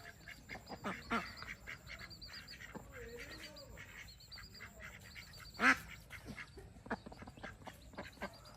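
White ducks near a lurking crocodile give scattered quacks and honks at a moderate distance, faint and intermittent over a quiet outdoor background, with one sharper call standing out midway.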